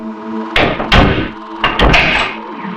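A door in a police interview room is pulled shut and locked, giving a few close, solid thuds and clacks in quick succession with a short pause between the pairs.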